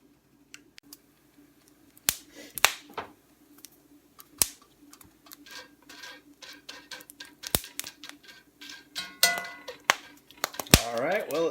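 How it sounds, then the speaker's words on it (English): Dried corn kernels parching in a pot crack and pop in sharp, irregular bursts that start sparse and grow denser and louder toward the end, heard up close. "But the kernels are popping up nice"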